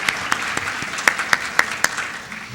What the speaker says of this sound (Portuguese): Eu convido Viviane Miranda, por favor, presença no palco com os aplausos de vocês.